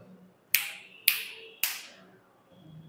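Three crisp finger snaps, evenly spaced about half a second apart, sharp and close against near silence.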